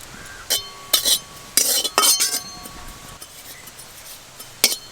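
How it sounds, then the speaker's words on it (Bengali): Kasuri methi dry-roasting in an empty kadai, heard as several sharp metallic clinks and scrapes of a utensil against the pan, spaced irregularly with quiet gaps between. "প্রথমে আমি চিকেনের জন্য কাসুরি মেথি শুকনো কড়াই একটু ভেজে নেব।"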